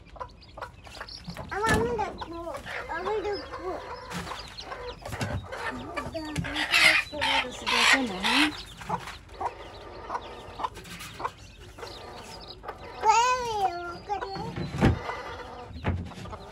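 Hens and chicks cluck and cheep inside a village house where the chicks are being caught and put into a cage, with repeated close calls and a few sharper squawks over background movement.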